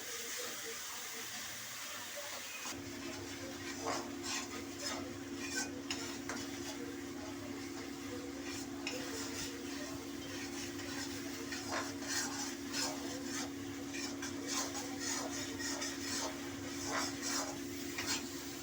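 Spices are sautéed in a pan for a vegetarian gobindo bhog rice khichuri, with a steady low sizzle under repeated scraping and tapping stir strokes, close and quiet, while a voice talks at times.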